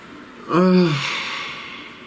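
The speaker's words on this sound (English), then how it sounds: "Please take a nice deep breath." One slow, deep breath drawn in and released, with a soft rush of air rising and then tapering off, close and clear in an otherwise quiet room.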